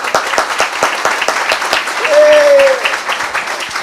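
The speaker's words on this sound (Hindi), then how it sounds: "आइए यीशु के वचन की तालियां" A church congregation claps during a sermon, a lively burst of many hands with distinct sharp claps, and a voice briefly sings or calls out over the clapping partway through.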